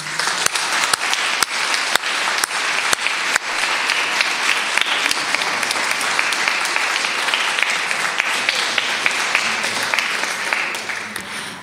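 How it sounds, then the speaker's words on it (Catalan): An audience at a poetry reading and song event applauds the readers and singers, a few distinct early claps merging into loud, sustained dense applause that holds steady to the end. "Crec que una vegada més els hi podríem fer un aplaudiment"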